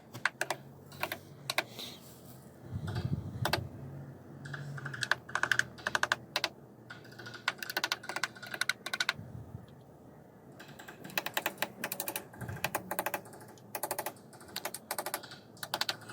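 Small panel pins are tapped into the crossbanding of a 150-year-old Australian red cedar chest of drawers: many light, sharp taps come in irregular quick clusters, close by and fairly quiet, with short pauses between.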